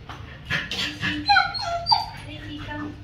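Daisy, a dog travelling in Vietnam, whimpers and yips in a string of high, wavering whines, up close and excited, with some background movement.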